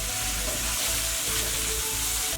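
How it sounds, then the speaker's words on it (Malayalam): Thinly sliced onions sauté in oil, a steady close sizzle and crackle of frying with a few faint stirring scrapes, alone with no voices. "ഇനി കുറച്ച് നല്ല ചുവന്ന കളറാവുന്നത് വരെ നമുക്കൊന്ന് വഴറ്റിയെടുക്കാം."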